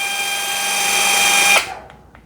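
A Hanabi LJ2022 cordless drill with a hybrid chuck and 55 Nm of torque runs at speed 1, a steady, loud, high whine for about a second and a half before it cuts off and winds down.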